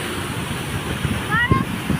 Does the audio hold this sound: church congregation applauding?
no